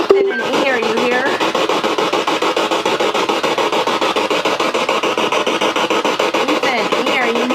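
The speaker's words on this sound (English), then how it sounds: "the spirit box sessions, they get really, really loud" Spirit box sweeping through radio stations during a paranormal EVP session, giving a loud, continuous, harsh stream of choppy static and rapidly clipped fragments with a steady pulsing rhythm.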